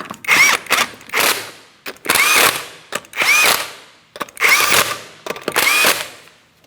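A power tool runs down five 19mm lug nuts on the wheel of a 2004-2008 Pontiac Grand Prix 3.8L V6 in loud, close whirring bursts with rattling impacts, each about a second long with short pauses between.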